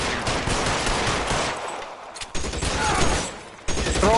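Sustained bursts of gunfire crackle loudly through an L.A. Noire shootout, a dense fusillade broken by a brief lull and then resuming, with no one talking.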